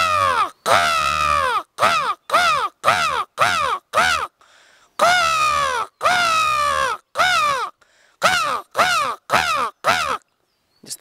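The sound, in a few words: person imitating a crow cawing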